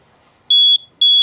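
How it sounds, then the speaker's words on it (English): Two loud, steady electronic boat engine alarm beeps, each about a quarter second long, sounding close with a short gap between them against quiet background. "So we've got the alarm."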